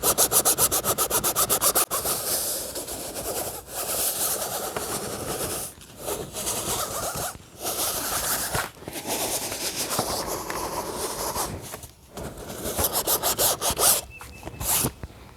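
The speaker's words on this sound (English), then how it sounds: "Start out with a little sandpaper." Sandpaper rubbed by hand across the surface of an inflatable boat, a continuous scratchy rasping with brief pauses and shifts in rhythm, close and fairly loud, with no voices.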